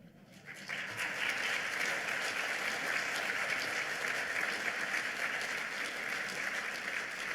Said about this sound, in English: How about another round of applause for Dr. Petro, Erie's own?